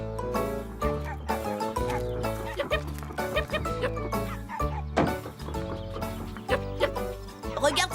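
Several cartoon chickens cluck and squawk close by, overlapping calls filling the whole stretch with busy, uneven bursts of farmyard chatter.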